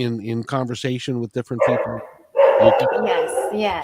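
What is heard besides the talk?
Australian Shepherd dog barking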